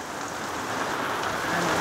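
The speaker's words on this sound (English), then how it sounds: "our cheese Danish is getting rained on" Summer rain falls steadily outdoors on a farm, a dense close hiss of drops pattering on surfaces, constant and moderately loud with no talk.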